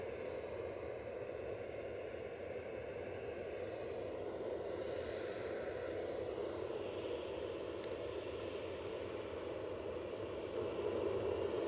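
Ryanair airliner outbound at Edinburgh Airport, a steady, moderately distant engine roar that holds evenly and swells slightly toward the end.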